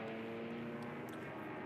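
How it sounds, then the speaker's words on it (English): A search plane being shot down in a combat video game gives a steady, droning engine roar that holds at an even level for under two seconds, with no talk. "It sounds like I shot down a search plane."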